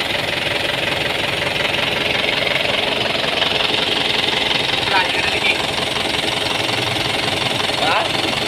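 A rebuilt Kubota tractor diesel engine runs steadily and loudly with a knocking, idling clatter throughout, close by and continuous.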